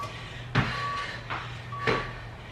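An interval timer beeps during a boot-camp HIIT workout: two short, thin electronic tones sound over a steady background hum, mixed with a few soft thumps of movement.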